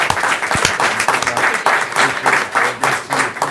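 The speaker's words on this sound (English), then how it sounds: "everybody give them a round of applause" A room at a city commission meeting gives a short round of applause, a moderately loud patter of clapping with rhythmic swells, heard up close.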